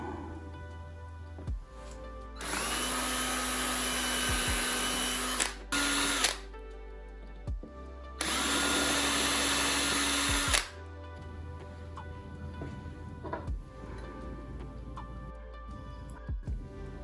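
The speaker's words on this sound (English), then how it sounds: "I'll drill my holes." A power drill bores holes in a picture frame keepsake box, with two sustained loud whirring bursts of about three seconds each, separated by short pauses and quieter handling clicks.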